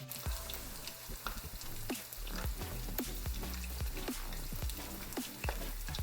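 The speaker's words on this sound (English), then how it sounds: "I use canola oil for frying." Chicken pieces frying in canola oil, a steady loud sizzle with dense crackling and frequent sharp pops throughout, heard alone without talk.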